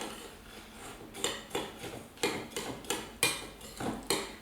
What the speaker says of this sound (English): And then we give it a good mix.